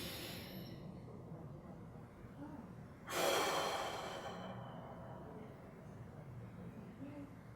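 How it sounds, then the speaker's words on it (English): One deep breath during a guided relaxation exercise rushes out as a single loud airy exhale partway through, then fades into quiet room tone. "take a few big deep breaths"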